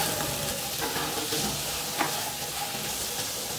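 Masala sautéing in a pan over a medium flame gives a steady, dense sizzle that holds evenly throughout, with a faint scrape of stirring near the middle and no talking.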